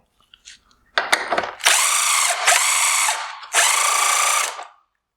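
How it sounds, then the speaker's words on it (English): A power tool with a 5/16 socket spins the adjusting bolt on a 2017-2019 Toyota Highlander halogen headlight, giving a few light clicks and then three loud, close whirring bursts separated by short pauses. "We will turn this adjusting bolt all the way to the left using a 5/16 socket."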